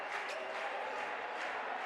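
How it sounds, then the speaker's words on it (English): A raucous home crowd at a Basketball Champions League Americas game in Cordoba, where Instituto faces Sesi Franca, makes a steady, dense roar of cheering throughout with no break. "a raucous crowd of supporters in Cordoba"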